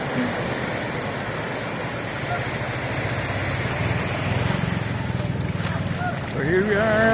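A motorboat near Sabang in Puerto Princesa rides over choppy waves, its engine droning steadily under roaring wind and splashing water, with voices speaking over the noise.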